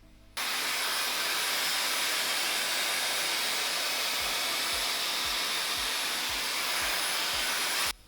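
Dyson Airwrap smoothing brush running on high heat and high speed, a loud, steady blowing whoosh with a high whine that starts abruptly, holds unbroken for about seven and a half seconds, then cuts off, with faint brushing thumps toward the end.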